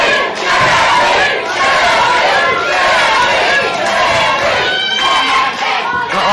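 A boxing crowd roars and shouts for JMP during his pro debut bout against Marty Kayes, a dense, steady wall of cheering and yelling that holds loud from start to finish.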